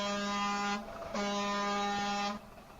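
Two loud blasts of an air horn sound effect, a brassy, buzzing horn tone: the first held under a second, a brief gap, then a longer blast of over a second, with no talking.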